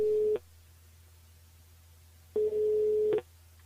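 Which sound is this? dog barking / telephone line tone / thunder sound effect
telephone line tone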